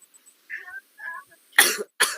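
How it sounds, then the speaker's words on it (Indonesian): Two sharp, loud coughs close by, following a few soft murmured sounds. "Aku batuk."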